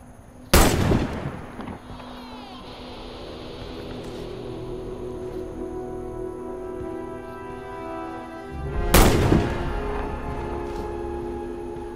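Two loud, sharp sniper rifle shots fired in the video game Warface, spaced about eight seconds apart, each followed by a ringing echo and tail over a steady game ambience.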